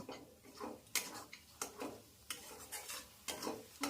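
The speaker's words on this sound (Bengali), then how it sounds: "এবার আমি এগুলোকে একসঙ্গে মিশিয়ে নেব" A spoon stirs a potato and egg mixture in a frying pan, with soft sizzling and a string of distinct scraping taps against the pan at an irregular pace, heard up close and fairly quiet.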